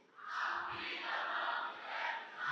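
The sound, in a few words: church congregation shouting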